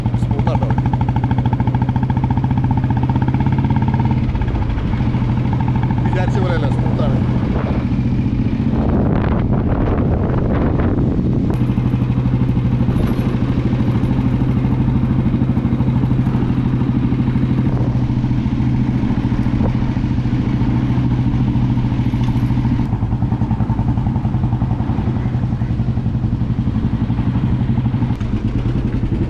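A 1953 Royal Enfield Bullet motorcycle ridden on the road, its low engine drone steady and loud under heavy wind buffeting, with brief clattering bursts and some talking.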